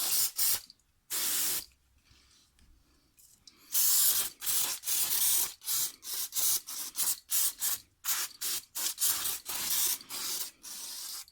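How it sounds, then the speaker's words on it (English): Repeated short bursts of aerosol brake cleaner hit the front brakes of a 2004 Ford Mustang. A long blast comes first, then a pause, then a rapid string of loud, close spray pulses. "Now I'm going to spray the front."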